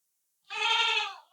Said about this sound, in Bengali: এই ভিডিওটা হবে আমাদের ব্ল্যাক বেঙ্গল ছাগল নিয়ে।